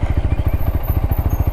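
A parked motorcycle's engine idles close by outside a small roadside shop, a steady, loud, rapid low-pitched chug that pulses evenly throughout with no voices over it.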